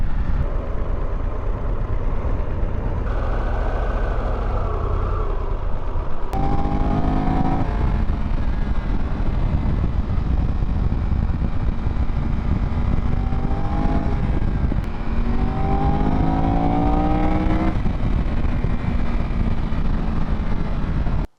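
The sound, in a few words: Triumph Tiger 1200 GT Explorer motorcycle riding up mountain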